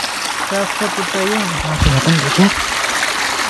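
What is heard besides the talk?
small stream flowing over a riverbed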